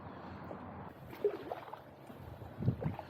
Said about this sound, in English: what you can really hear is the water, which is nice